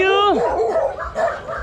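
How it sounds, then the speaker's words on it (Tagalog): Dogs barking and yelping in a street neighbourhood, a whining yelp followed by rough barks mixed with people talking. "Sumasagot yung mga aso."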